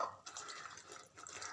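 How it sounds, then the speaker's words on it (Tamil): Water poured from a glass onto a plate of sliced, lightly salted raw plantain, a soft splashing trickle that comes in two short bursts, faint and close with no talk. "ஒரு கிளாஸ் தண்ணி ஊற்றி"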